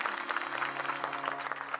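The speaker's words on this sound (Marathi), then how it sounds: "या पोरांसाठी एकदा टाळ्या वाजवा" A crowd at a devotional Varkari kirtan gathering claps for young veena players, producing a short burst of steady, moderately distant applause over a faint sustained musical drone.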